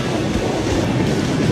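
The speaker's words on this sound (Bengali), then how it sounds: "এই যে এখানে একটা ট্রেন আছে।" A passenger train, the Rupsha, runs on rails in Bangladesh, giving a loud, steady rumble of wheels and carriages that fills the whole stretch with no voices.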